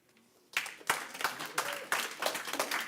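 An audience at a school board meeting breaks into applause after a quiet moment, and the clapping rises suddenly. Steady clapping from a moderate-sized crowd follows for a couple of seconds, fairly close and unaccompanied by speech.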